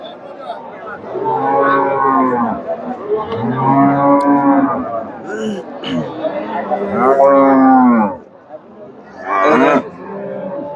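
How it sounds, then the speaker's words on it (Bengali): Jersey and crossbred cows low at the Chandaikona cattle market in Bangladesh, several long, loud, close moos in succession, with a person talking in the background. "এখানে ভাইদের কাছে ক্রোসের গাভী আছে আমদানি প্রচুর আছে"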